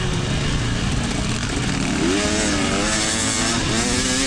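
A SORCS Ridgerunner engine revs hard at high RPM, a loud sustained buzzing drone with rising and falling pitch sweeps, steady and close throughout with no talking.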